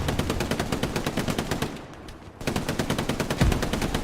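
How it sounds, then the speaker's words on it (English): Machine gun hip-fired in the video game Hell Let Loose, rapid sustained automatic bursts with a brief pause before firing resumes, loud and close. "Hip firing an MG."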